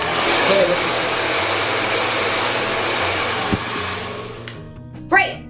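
A hair dryer blows steadily and loudly during a salon blowout, a continuous whooshing hum that cuts off near the end, followed by a brief bump and a short voice.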